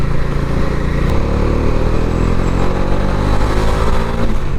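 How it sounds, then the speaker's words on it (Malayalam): Bajaj Dominar 400 motorcycle (UG, BS7 version) with a deep, steady exhaust note, idling then rising slightly in revs, loud and close throughout without any talk. "വണ്ടിയുടെ മെയിൻ ഹൈലൈറ്റ് എന്ന് പറഞ്ഞാൽ ഈ ഒരു എക്സോസ്റ്റ് നോട്ട് കേട്ടോ"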